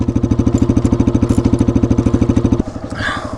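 Yamaha XT250 motorcycle engine idling close by, a steady rapid single-cylinder putter that abruptly drops to a softer, rougher note near the end.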